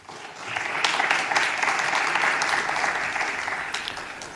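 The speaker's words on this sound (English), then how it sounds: "Please welcome him with a round of applause." An audience at a global health prize forum gives a round of applause, a steady, fairly loud wash of clapping that swells in and holds evenly to the end.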